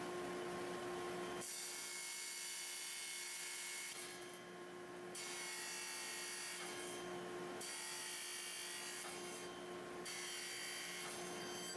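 A power saw cuts repeatedly into waste wood to form a tenon, a loud sustained high whine broken by brief pauses between passes, close and with no talk.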